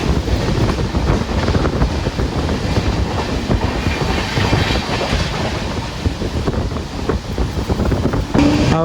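Strong wind and heavy rain roar at the door of a general coach on the Antyodaya Express between Mangaluru and Kochuveli, mixed with the rumble and clatter of the moving train. The sound is loud and steady throughout.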